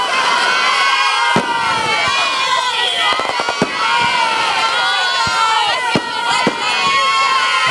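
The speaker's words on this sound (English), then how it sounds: "they started the fireworks pretty early out in North Pontotoc tonight." Fireworks bursting over a Friday night high school football game in North Pontotoc, Mississippi, sharp pops scattered through a loud, steady crowd roar with cheering and children shouting.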